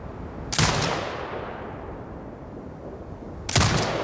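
In the Sniper Ghost Warrior Contracts 2 video game, a turret fires two single loud booming shots roughly three seconds apart, each with a rumbling tail.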